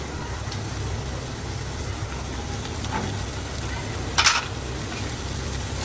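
Cubed onion and carrot fry in a pan, giving a steady, low sizzle close by, with a brief louder stir or clatter near the end and no talking.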